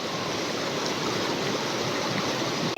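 Flowing river water rushes steadily while someone wades across the river, a constant close, loud wash with no pauses or voices.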